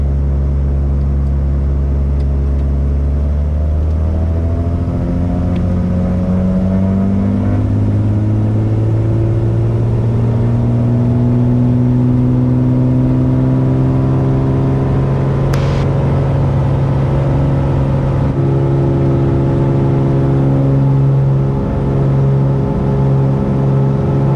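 A 1991 Beechcraft F33A Bonanza piston engine roars loudly and continuously on its takeoff run at Long Beach, its droning pitch climbing steadily as power builds and the plane accelerates.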